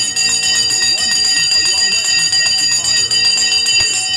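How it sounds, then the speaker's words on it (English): Stock market opening bell ringing, a loud continuous metallic electric bell with rapid rattling strikes and sustained high tones, constant from start to finish. "The bell has gone."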